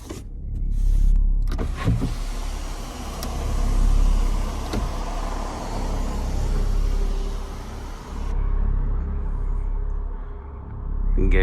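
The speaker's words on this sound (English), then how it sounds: "I'm going to be using the sunroof in my car." Electric motor of a car sunroof sliding open, a steady whirring drone running for about eight seconds, close and fairly loud, with low cabin rumble underneath, then cutting off and leaving quiet rumble.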